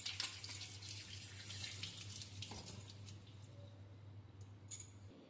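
Water poured into a pot to make steam while cooking diet kachori, a steady faucet-like splashing running for several seconds under a low constant kitchen hum, with no talk.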